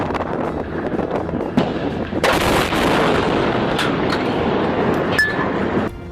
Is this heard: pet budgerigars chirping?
no